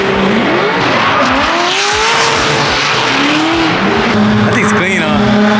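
Formula Drift cars drift through the streets of Long Beach, their engines roaring loud and close with rising and falling revs as tires squeal, one continuous wall of sound with no gaps.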